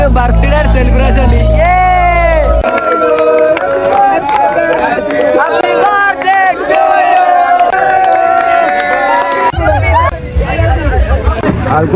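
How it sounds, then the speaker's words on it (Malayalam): A dense crowd shouts and calls out together at a police birthday celebration on a street in Kochi. The voices stay loud and close the whole time, with a deeper rumble at the start and again near the end. "ആൾക്കൂട്ടം ഗൈസ്, ആൾക്കൂട്ടം."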